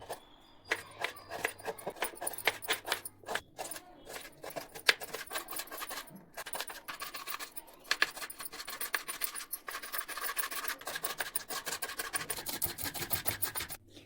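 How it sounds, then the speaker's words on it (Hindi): Amla, garlic, mint and coriander leaves, green chilli and ginger are crushed together for chutney, making a close, rhythmic run of gritty rasping, scraping strokes that repeats steadily, with brief pauses, for about fourteen seconds. "ये मेरे सारे सामग्री क्रश हो गया है"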